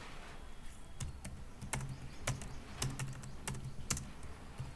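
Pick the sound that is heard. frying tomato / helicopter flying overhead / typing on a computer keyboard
typing on a computer keyboard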